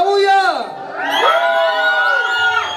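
Crowd at a quinceañera party for twin girls with a youth mariachi band, cheering, whooping and yelling loudly in sustained, rising and falling shouts with high voices throughout.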